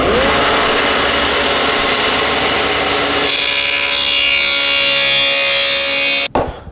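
Power saw cutting rabbets into a bookshelf top board, with a loud, steady whine that shifts in pitch partway through and then stops abruptly near the end.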